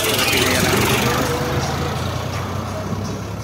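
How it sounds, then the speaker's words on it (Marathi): A tractor engine rumbles at idle, low, steady, loud and close, with a faint voice over it near the start. "दुसरा ट्रॅक्टर घेऊन आला इकडं बाहेर मित्रांनो"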